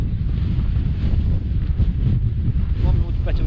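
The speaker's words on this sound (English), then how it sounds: "that wind's still there" Bitter wind blows steadily across open ground in the Scottish Southern Uplands at a solo wild camp, a constant loud, rumbling gust pressing against the microphone with no pauses.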